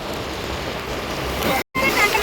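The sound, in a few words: rain falling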